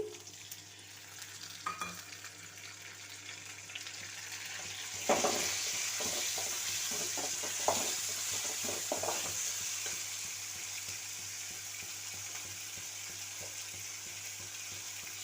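Chopped tomatoes frying in a pan give off a steady, close sizzle, with a burst of stirring scrapes partway through before the hiss settles back.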